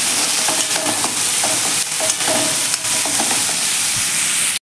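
Chopped tomatoes stirred into cowpea pod stir-fry in a hot pan, a dense, loud sizzle with intermittent scraping strokes of a spatula, close and continuous until an abrupt stop.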